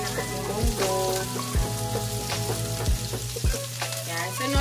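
Garlic and onions sautéing in a pan, a loud close sizzle with several sharp scraping stirs and bumps from a utensil, no speech.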